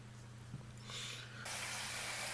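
Water gushing into a basin filled for a children's water-play game, a soft trickle that quickly builds into a loud, steady rush of filling water.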